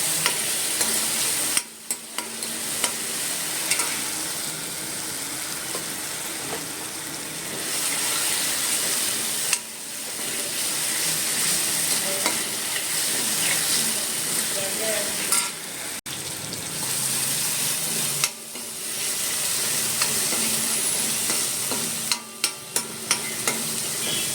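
Ginger garlic paste sautés in hot oil in a home kitchen while preparing a crab curry, with a constant loud sizzle and hiss and intermittent stirring scrapes throughout.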